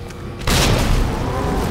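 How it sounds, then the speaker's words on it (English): A hand grenade exploding in the Resident Evil 2 Remake video game: a single sudden heavy boom after a brief quiet moment, with a rumbling tail. "And I think I'll throw the hand grenade at him."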